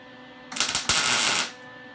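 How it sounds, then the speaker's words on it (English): A MIG tack weld joining scrap metal pieces for a fisherman sculpture, a close, loud crackling buzz lasting about a second after a few sharp starting pops, then fading back to quiet. "I'm going to tack weld it on where the two touch."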